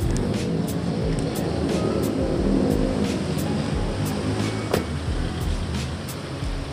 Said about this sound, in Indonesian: ini adalah suara dari Innova ya.